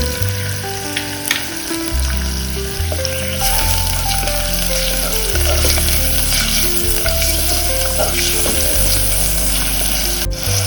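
Garlic, added together with bay leaf and ginger for a Goan prawn pulao, fries in a pan with a loud, steady sizzle and crackle that holds throughout, with occasional stirring scrapes.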